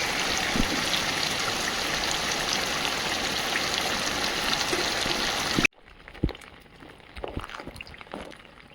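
Heavy rain pours down steadily in a dense, close wash, then abruptly eases to a lighter patter with scattered individual drips striking nearby surfaces.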